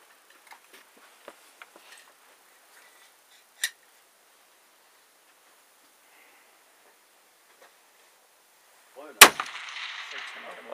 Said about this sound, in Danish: Så er vi klar til at skyde.